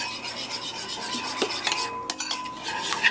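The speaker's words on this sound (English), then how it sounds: "Give that a nice stir." Fried rice being stirred in a pan after a generous amount of black pepper, with scraping and rasping of a utensil against the pan, irregular close strokes and a few sharper clinks, no talking.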